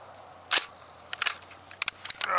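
An M1 Garand rifle being handled at a World War II rifle range: its clip locks in and a round chambers. Several sharp metallic clacks sound close and loud, one near the start, then a cluster of quick clicks and snaps.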